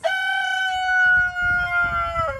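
A backyard rooster crows one long, loud, close call with a drawn-out harmonic tone over a rough low rumble, tailing off at the end.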